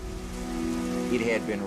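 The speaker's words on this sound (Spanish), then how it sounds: "Estaba lloviendo desde hacía días." Steady rain hisses and patters continuously in the background while a voice speaks over it throughout.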